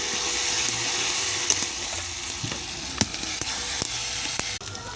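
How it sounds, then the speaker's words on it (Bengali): Garlic paste frying in a pan for a chicken dish, a steady close sizzle with occasional stirring clicks and spatters, no talking. "রসুনটা ভাজা হচ্ছে দেখো।"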